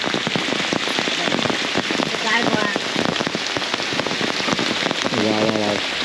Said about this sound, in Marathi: तर मित्रांनो, ही आहे आमच्या कोकणातील पावसाची झलक.